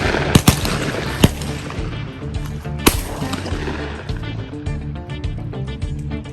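Shotgun blasts during a late-season dove hunt in open field, several sharp loud reports at irregular intervals over steady background noise, with people talking nearby.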